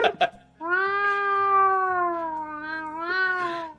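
A dragon in a video game lets out a long, drawn-out cat-like meow with clear rising and falling tones, loud and alone after a couple of short sounds.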